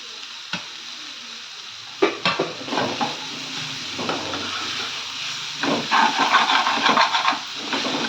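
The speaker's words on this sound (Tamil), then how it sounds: "இப்போ இதில் நான் ஒரு குடமிளகா பொடி பொடியாக கட் பண்ணி வச்சுருக்கேன், அதையும் சேர்த்துக்கிறேன்" Chopped capsicum stirred into banana flower thokku in a pan, with a steady frying sizzle and scraping spoon strokes against the pan that grow busier toward the end, no voices.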